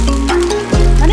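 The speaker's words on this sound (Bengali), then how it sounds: "তেল গরম হয়ে গেছে, প্রথমে আমি ক্যাপসিকাম ভেজে নেব।" Capsicum frying in hot oil for a Bengali chicken curry, a steady crackling sizzle running throughout and loud, with a voice talking over it.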